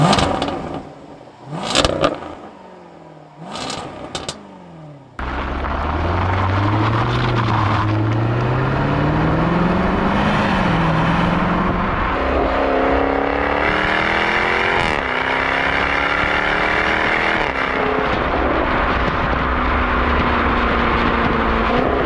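A Jaguar F-Type R's supercharged V8 is pushed into life with a loud starter bark and flare, then settles into a strong idle with several rising revs and drops, close and loud, with no talking.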